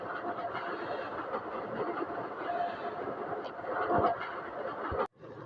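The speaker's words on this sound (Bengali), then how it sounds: "ট্রেনের কি স্পিড দেখেছেন?" A train rumbles steadily past with continuous rolling wheel noise, loud and close, ending in an abrupt cut.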